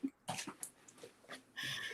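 A dog whimpers and whines in a few short, thin cries, close and soft, with quick breathy yips between them.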